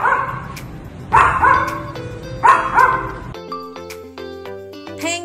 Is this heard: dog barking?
yes